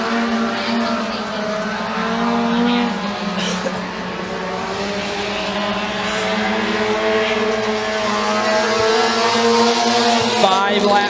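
Mini stock race cars roar around the McKean County Raceway oval, a dense, continuous engine drone with layered overlapping motors, while a commentator talks over the racing throughout.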